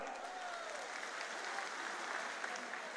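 A crowd applauding to welcome Sachin Pilot at a Kisan Nyay Yatra rally in Ujjain, a faint, distant wash of steady clapping that holds evenly for about three seconds.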